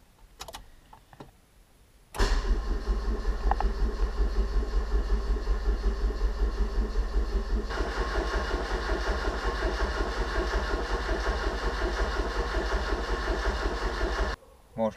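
A Ford Fiesta Mk2 Zetec's starter motor cranks the engine continuously for about twelve seconds, a loud rapid whirring churn that stops abruptly, with a brief click beforehand.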